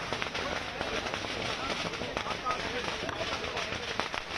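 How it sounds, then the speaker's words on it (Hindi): Continuous dense crackling and popping of fireworks at an election victory celebration in Gujarat, rapid overlapping bursts at steady loudness, with voices talking underneath. "आतिशबाजी की जा रही है।"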